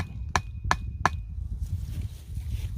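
Wooden stakes are pounded into rain-softened farm soil, giving three sharp, evenly spaced knocks within about a second, followed by quiet outdoor background.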